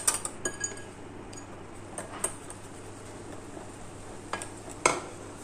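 A utensil stirs cake batter in a bowl for an Independence Day flag cake, with light intermittent scrapes and clinks against the bowl, soft and close, with no voices.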